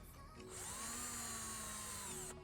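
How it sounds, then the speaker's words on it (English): A power drill whines at high speed for about two seconds during headlight restoration, starting and stopping abruptly, loud and close. "our drill."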